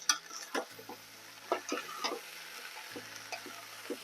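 A pot of sofrito with turmeric being stirred, soft scraping strokes and light clinks over a quiet sizzle, sparse and close, with no talk.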